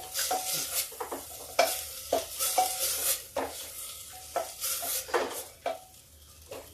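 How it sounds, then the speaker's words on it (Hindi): Two handfuls of moong dal fry in a pan as a spoon stirs and scrapes in irregular clatters, with a soft sizzle underneath, close and without talking. "अब इसको हम इसमें फ्राई कर लेते हैं।"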